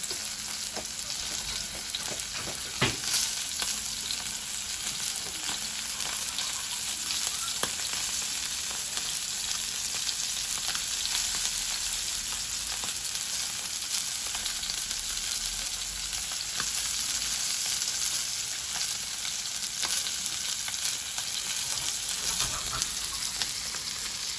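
Fish frying in hot oil in a pan, a dense, continuous loud sizzle held for a long stretch with occasional faint clicks and pops, close up and without talk.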